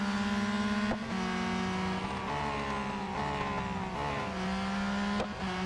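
Race car engines in Real Racing 3 hold a loud, continuous high whine whose pitch rises and dips as the cars accelerate and shift gears out of a corner. Nobody speaks.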